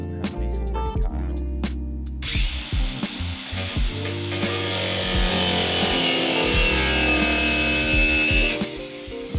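A power tool whines loudly and continuously as it cuts into a front bumper on an NA MX5 Miata, following a few sharp knocks and bumps; the cutting runs for several seconds before stopping abruptly.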